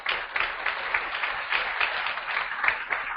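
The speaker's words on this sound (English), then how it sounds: "let's give TR90 a round of applause" A seminar audience gives a round of applause, an even, sustained crackle of many hands at moderate distance with no voices on top.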